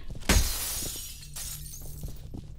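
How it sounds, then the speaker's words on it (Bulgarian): Glass shattering when shot in the video game F.E.A.R.: one sharp, loud break followed by a long tinkling spray of falling shards, with a few smaller cracks afterward. "Обичам да чупа стъкла във всеки FPS игри."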